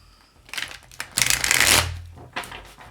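Oracle cards are shuffled by hand in several quick bursts of crisp riffling and rustling, the loudest flurry in the middle, close and clear with no talking over them.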